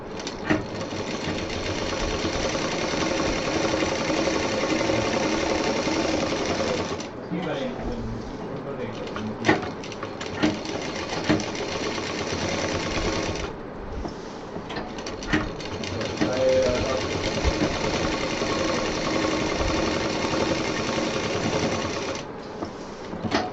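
A sewing machine stitches fabric for a bottle case in rapid mechanical bursts, running steadily for several seconds, pausing briefly, then starting again in shorter runs, close and clear, with a person speaking at times between the stitching.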